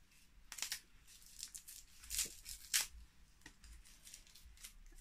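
Lipstick packaging torn open by hand: faint, close crinkling and ripping of wrapping in several short bursts, with two sharper tears near the middle, over a quiet background.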